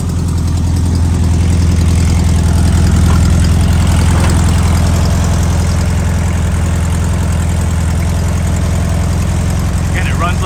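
A 1970 Volkswagen Beetle engine with 89k original miles runs at a steady idle, its low continuous rumble loud and close throughout with no pauses.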